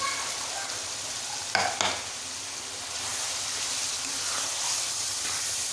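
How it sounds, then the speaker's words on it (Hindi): Boiled chana dal stirred into mutton masala in a pot (handi), with a steady soft frying hiss and one brief knock of the spoon against the pot partway through. "तो अब हम अपनी बॉयल जो चने की दाल है वो डाल लेते हैं।"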